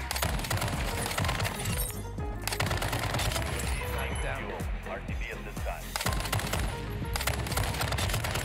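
Rapid gunfire bursts in a fast online shooter match crackle close and loud, with clattering impacts and game effects running throughout, while a player talks over the action.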